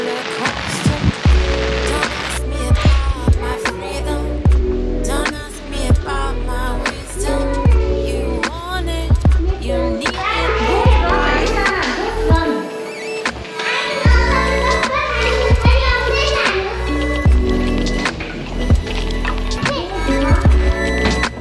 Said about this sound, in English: We have arrived and it's raining.